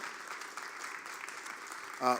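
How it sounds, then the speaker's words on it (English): An audience at an urban policy forum in a theater claps steadily at moderate volume. A voice speaks over the end of the applause. "So let's certainly give the Howard Theater team a big round of applause for everything they do."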